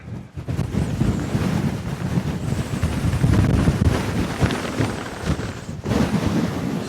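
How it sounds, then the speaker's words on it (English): Strong, gusty wind buffets the microphone on an exposed fell ridge, a continuous loud low roar that surges and eases in waves throughout, with no voice heard. "But it's still gusty down here."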